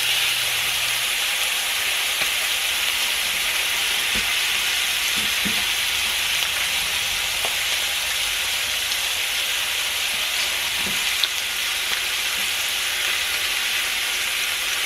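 Sausage frying in an iron skillet gives off a steady, loud, close sizzle with a dense crackle of grease and occasional soft pops, continuous throughout.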